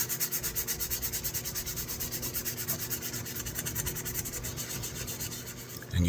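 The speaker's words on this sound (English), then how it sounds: "So I've got some 320 grit here. Just going to go over lightly." Steady back-and-forth rubbing of 320-grit sandpaper lightly over serpentine pocket knife scales, a rapid rhythmic rasping stroke repeated evenly at close range, with no talking.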